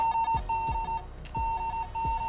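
A Cobra PX655 walkie-talkie gives error beeps because its channel is locked: short, clear, close tones in a quick pattern of repeated pairs, each set off by a faint click.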